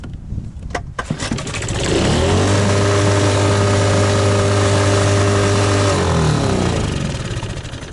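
A Suzuki outboard motor roars up to a high, steady rev and holds it for several seconds before easing back down, loud and close.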